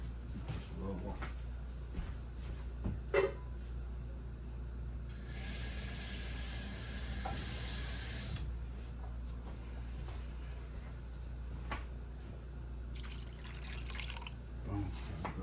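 A burst of bright hissing sizzle as water hits a hot pan of cooking chicken, lasting a few seconds amid kitchen clatter, with a second softer sizzle near the end.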